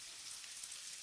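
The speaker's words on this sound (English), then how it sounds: "Outside, rain began to fall. Not heavy rain, soft summer rain." Soft summer rain falls outside as a gentle, steady hiss with no distinct drops, faint and even throughout with nothing else heard.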